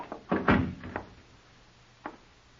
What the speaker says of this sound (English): Keep quiet and shut the door.